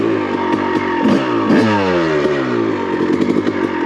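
Honda CR250R two-stroke motocross bike set up for enduro, its engine revving up and down in rapid sweeps with crackling, raspy pitch changes, loud and close throughout with no talking.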